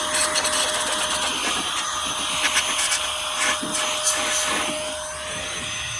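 A Sweepulire compressed air duster on a higher setting blows dust off electronics, producing a steady, loud rushing whir that holds nearly constant for the whole stretch with slight surges, no voices over it.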